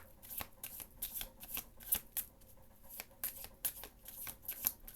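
A deck of tarot cards being shuffled by hand, giving repeated crisp riffling bursts in an uneven rhythm, close and fairly loud with no talking.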